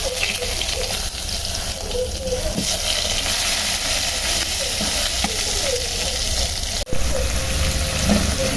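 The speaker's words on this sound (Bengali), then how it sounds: "এখন ওই তেলে শাকগুলো ভেজে নেব" Leafy greens frying in oil in a home kitchen, a steady close sizzle running throughout with faint stirring and one brief clatter near the end.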